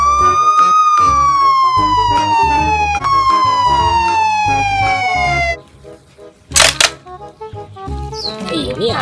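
A toy police motorcycle gives a loud, wailing electronic siren that sweeps steadily downward in pitch over a pulsing toy beat, then breaks into brief clattering and rattling sounds near the end.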